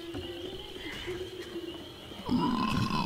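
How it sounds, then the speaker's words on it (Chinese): A Boomer zombie from Left 4 Dead 2 lets out low guttural groans and gurgling growls, rising louder near the end over a steady game background. "Boomer! Boomer 的声音。"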